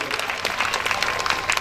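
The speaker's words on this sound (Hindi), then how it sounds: "और तालियां बजती रहे, तालियां।" Steady crowd applause at a Srimad Bhagwat Katha religious gathering in Agra, dense even clapping from many hands sustained throughout without pause.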